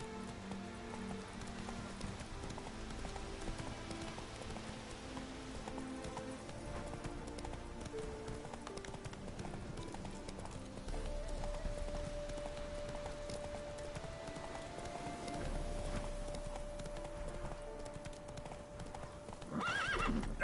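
Roach, Geralt's horse in The Witcher 3, gallops steadily with continuous clip-clopping hooves and occasional neighs, layered over rain-like ambience and game music for a long stretch.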